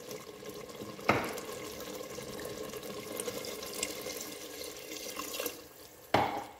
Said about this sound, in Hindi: अब इसके अंदर मैं पानी शामिल करूँगी